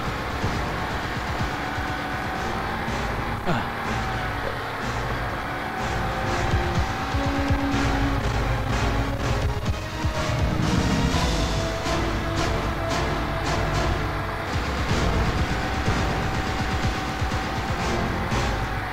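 A car runs at around 120 km/h on the road to Mumbai, a continuous, dense rush of engine drone, road and wind noise heard from inside, steady throughout with small bumps and rattles.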